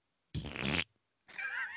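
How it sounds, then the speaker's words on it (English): A fart, close and fairly loud, in two separate bursts: a half-second blast, a gap of silence, then a longer, higher and wavering squeak. "every fart is a gamble"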